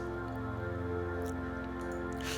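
A sustained pulse-width-modulated synth patch from the Serum synthesizer holds a dense, buzzy harmonic tone at steady volume, with faint brief noisy flickers high above it.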